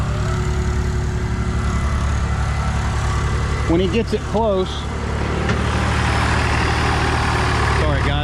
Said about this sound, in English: sorry guys, a lot of noise with the tractor.